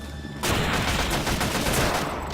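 Rifle fire in the video game Deadly 30 breaks out after a short lull, a rapid run of loud, close shots that fire continuously until near the end.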